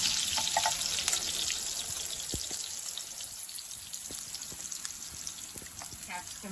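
Capsicum frying in a pan, giving a continuous crackling sizzle with scattered pops that holds steady and fairly close throughout.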